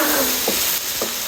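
Boneless chicken fries in oil in a kadhai with a loud, continuous sizzle, broken by two short scraping stirs of a spoon, and nobody speaks.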